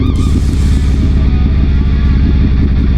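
Loud, steady motorcycle engine drone while riding through town, a continuous low rumble with wind buffeting and no speech.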